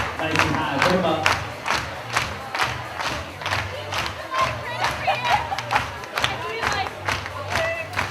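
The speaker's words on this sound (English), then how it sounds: "All right, clap those hands on the dance floor." A crowd at a DJ event claps hands on the dance floor, loud steady rhythmic claps over thumping music, with cheering voices mixed in throughout.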